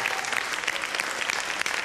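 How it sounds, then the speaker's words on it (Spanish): Dense, steady applause from a studio audience during an award presentation on a Chilean evening news broadcast, a close wash of many hands clapping for the whole stretch with no voices over it. "quiero pedir un fuerte aplauso acá"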